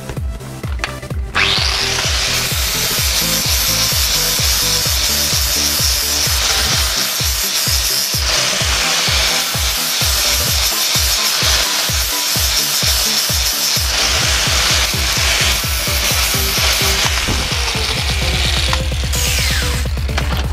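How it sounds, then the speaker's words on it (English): A flap disc on an angle grinder cleans paint and rust off scrap metal, a loud steady abrasive whine with rapid pulsing as the disc bites, winding down at the end; no talking. "So you're just using a flap disc like this. It's better than a grinding disc."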